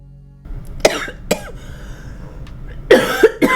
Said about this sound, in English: I just choked on my saliva